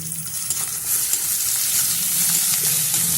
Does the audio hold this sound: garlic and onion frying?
yes